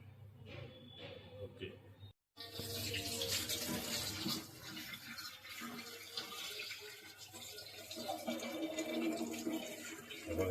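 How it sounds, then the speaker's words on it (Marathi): River fish are washed under running water, a steady close splash and trickle after a short quiet gap, with handling noises and a voice speaking over it. "असं स्वच्छ धुवून घ्यायचे मासे"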